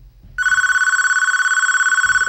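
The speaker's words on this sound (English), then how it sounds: "Our phone's been going off the hook." A telephone bell rings loudly and continuously for about two seconds with a rapid trilling pulse, standing alone after a brief murmur of background noise during a live karaoke show.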